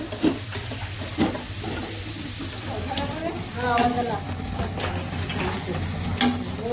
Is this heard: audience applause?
no